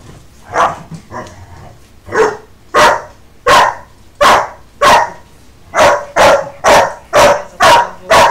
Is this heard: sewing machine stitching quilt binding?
no